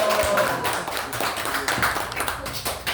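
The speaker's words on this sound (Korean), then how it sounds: "여러분의 우리와 같은 함성과 박수로 시작하겠습니다" An audience at a rally and progress report for fraud victims of the Discovery fund claps and cheers throughout, a steady, dense patter of hands with shouts mixed in.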